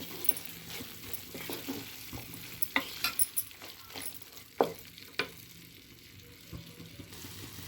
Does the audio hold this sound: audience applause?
no